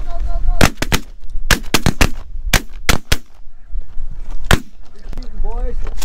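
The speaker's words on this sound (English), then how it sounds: "Good shooting, boys." Rapid shotgun blasts while hunting snow geese in Alberta, a volley of loud sharp reports in quick succession at close range, mixed with honking geese and hunters shouting excitedly.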